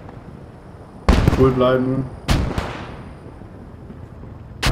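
In a World War II-style video game artillery duel, two heavy booming blasts land about a second apart with long rumbling decays, loud and near, while someone speaks briefly over the first.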